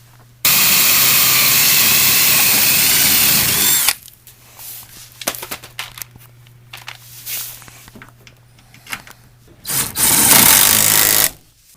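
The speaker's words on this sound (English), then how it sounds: "we drilled the first bolt, and we're going to drill the second bolt" A power drill bores a bolt hole for a running board bracket on a Nissan NV van, a loud steady whine for several seconds, then scattered clunks and handling noises, and a second short burst of drilling near the end.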